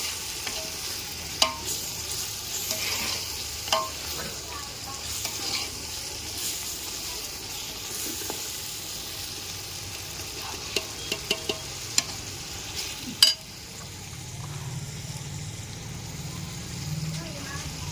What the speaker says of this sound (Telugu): చికెన్ బిర్యానీ చికెన్ మసాలా, బిర్యానీ మసాలా వేసుకొని మొత్తం కలిపేసుకోవాలి ఒకసారి